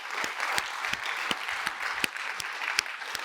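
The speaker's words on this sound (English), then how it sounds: "if I can ask for a huge round of applause for the Magento Association" Audience at a closing keynote for a Magento Open Source and Adobe Commerce event breaks into sustained applause, dense clapping that stays steady and loud throughout with no voices on top.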